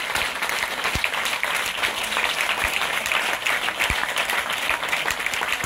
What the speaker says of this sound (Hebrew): אני רוצה לשמוע מחיאות כפיים לאנשים האלה